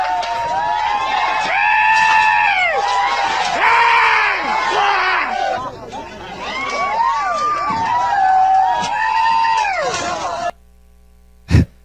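Protest crowd shouting during a farm invasion in western Bahia, Brazil: loud, sustained chanting and rhythmic yells from many voices, one piercing cry standing out, before cutting to near silence.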